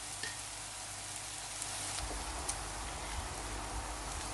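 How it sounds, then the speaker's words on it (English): Onions frying for an okra curry, giving a steady, even sizzle with soft crackles, moderately quiet and continuous, with no talking. "the onions are nicely sizzling away"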